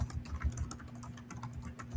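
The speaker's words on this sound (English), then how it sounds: "Typing away." Rapid clicking of keys on a computer keyboard, a steady stream of typing with a faint low hum underneath.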